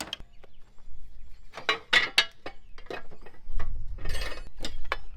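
A wrench cracks loose the hydraulic fittings on a Great Dane Super Surfer II mower, giving a close series of sharp metallic clicks and ratcheting snaps in irregular bursts.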